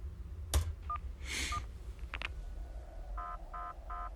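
Telephone keypad tones in the Payphone Simulator game: a few scattered beeps, then three evenly spaced dialing tones near the end, quiet against a low background with no talk.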